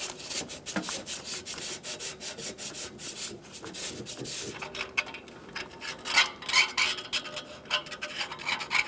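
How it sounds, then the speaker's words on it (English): Steady, rhythmic scrubbing and rasping at the exhaust manifold flange of a 1999–2006 Chevrolet Silverado 1500 4.3L V6, close and continuous, with short strokes repeating throughout. "continue on to cleaning up that flange, make sure it's a smooth surface"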